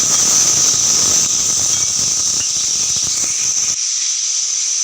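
Cut tomatoes hiss loudly and continuously as they hit a hot pan, a dense, steady sizzle that fades and drops off abruptly near the end, with no voices.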